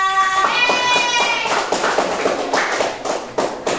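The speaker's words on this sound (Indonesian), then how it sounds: "Tepuk tangan buat Naya." Classroom children clap for a pupil, scattered taps and claps breaking out after a brief tone, uneven and close, thinning toward the end.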